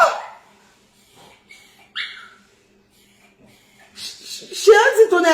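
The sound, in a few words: dog barking and whimpering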